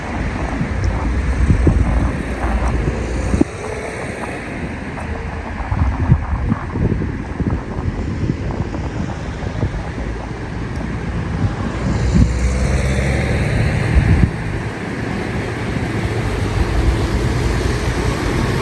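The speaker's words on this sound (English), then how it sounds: "This is one of the boats that was at the marina with us, leaving this morning." A canal boat engine rumbles low and steady nearby as it leaves a marina, mixed with wind buffeting the microphone and faint water noise, continuing throughout.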